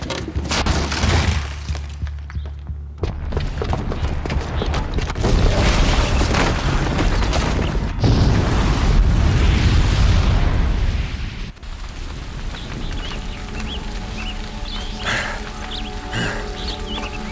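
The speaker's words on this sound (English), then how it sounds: "the booby trap on the bomb downstairs is gonna get set off" A bomb booby trap going off in Horizon Zero Dawn, a loud sustained booming explosion with rumbling debris that rolls on for several seconds before easing into a lower continuing roar.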